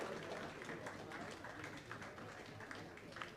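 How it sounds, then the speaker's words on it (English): Audience applause at a medical quiz event at a college, a steady dense wash of many hands clapping that fills the whole stretch at an even level. "So give them a round of applause."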